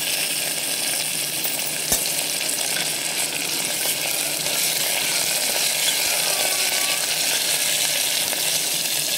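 Large peeled potato pieces and vegetables sizzle in a pan for khichdi, a steady close hissing fry with a single sharp clink near the start and faint stirring, no voices.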